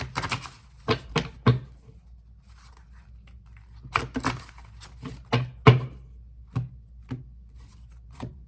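A tarot deck being shuffled in short bursts of crisp riffling and tapping, close up, with quiet pauses between.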